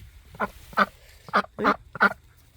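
Ducks quack in a short run of about six loud, nasal, honking calls in uneven bursts close by, with quiet gaps between them and no talking.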